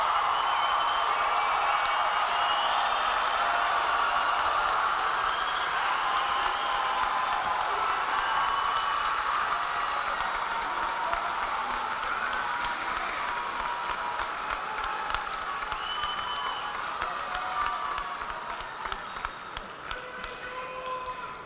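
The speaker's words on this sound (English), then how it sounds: "Let's give this class one big round of applause for all they've accomplished." A high school graduation audience applauds the class in a large venue, a long sustained roar of clapping with a faint whistle or two, slowly tapering toward the end.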